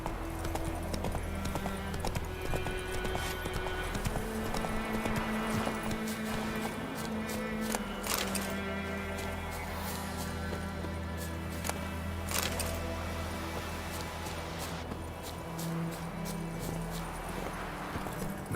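Roach the horse gallops in The Witcher 3, hooves clip-clopping in a steady running rhythm throughout, mixed with game music and ambience.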